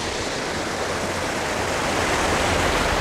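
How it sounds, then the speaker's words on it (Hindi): Clean water rushing between mountains in Oman: a dense, steady hiss of flowing water, close and loud, unbroken for the whole stretch, with no voices. "पानी जो है बहुत अच्छे तरीके से पानी जा रहा है"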